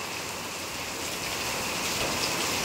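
Rain falls steadily in Chintalapudi, a continuous, even hiss of drops on surfaces with no voices or other sounds above it.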